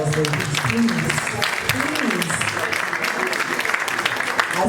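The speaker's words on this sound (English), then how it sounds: "A rousing round of applause, ladies." A crowd applauds at a Women's Month event. Moderately loud clapping runs steadily throughout, with voices and cheering mixed in.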